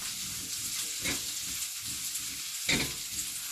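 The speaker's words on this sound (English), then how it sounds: "I've got my ginger and garlic. It's sizzling away now." Ginger and garlic fry in a pan with a steady sizzle, a continuous crackling hiss with a few louder bursts as they are stirred, close by and with no voices.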